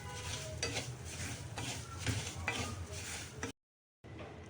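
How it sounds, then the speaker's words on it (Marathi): Semolina (rava) roasting in ghee in a pan, with a soft continuous sizzle and repeated scraping stirs of a spoon against the pan, then a brief cut to silence before the sizzling resumes. "आता आपला रवा भाजत आलेला आहे"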